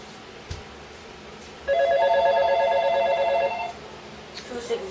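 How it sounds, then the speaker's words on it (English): A telephone rings with a steady electronic trill for about two seconds in an indoor room, over low background hum and faint noise. "Sorry for the phone ringing or whatever."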